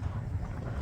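Strong wind buffeting an outdoor microphone near a work site, a steady low rumbling roar with no pauses, loud and close throughout.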